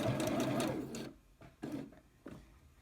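Sewing machine stitching a seam along a fabric zipper pocket, a steady loud whir for about a second, then two short bursts of stitching separated by near silence.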